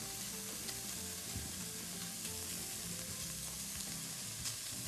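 Minced bacon and ground calabresa sausage sauté in a pan, giving a steady, dense sizzle and frying crackle throughout, with occasional scrapes of stirring and no voices.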